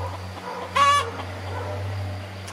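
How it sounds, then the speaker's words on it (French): A hen clucks after laying an egg, one loud close squawking burst standing out over a steady low hum, with quieter clucks around it and no talk. "il y a une poule qui vient de faire son œuf"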